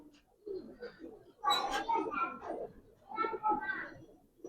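Giribaz pigeons, a red-khaki pair, give soft cooing calls in two bursts, close and moderately loud, with someone talking over and between them.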